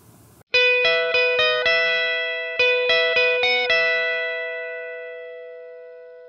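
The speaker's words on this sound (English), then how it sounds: "So I'm going to play it clean for you" A clean electric guitar picks a bright lead melody as ringing single notes in a quick repeating pattern, loud and close, with the last note left to ring out and fade.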